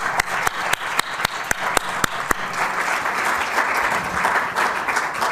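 An audience applauds after a lecture, opening with a few sharp, evenly spaced close claps that give way to a full, continuous round of clapping from the hall.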